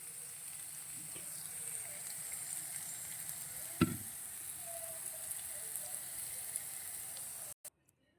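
Mustard seeds and asafoetida sizzle steadily in hot oil as a tempering for a capsicum yogurt chutney, with one sharp click partway through before the sound cuts off.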